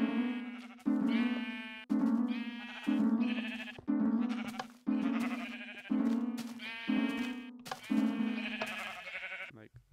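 A repeating sequence of blocky, bleating synthetic video game note block notes plays in a steady rhythm, each note sustained and slightly wavering, loud and close.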